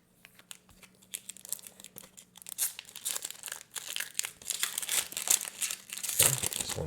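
A Magic: The Gathering Core Set 2020 draft booster pack is torn open by hand, with close crinkling foil wrapper and ripping that builds into louder, busier crumpling toward the end.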